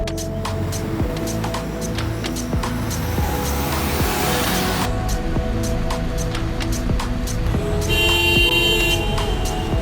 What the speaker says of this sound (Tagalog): I walk para marinig ang pagdaan ng mga sasakyan